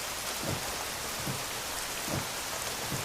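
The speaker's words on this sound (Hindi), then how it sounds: "बारिश भी होने लगी" Steady rain falls in a dense, hissing wash with no break, broken by soft low thumps now and then, and no voices.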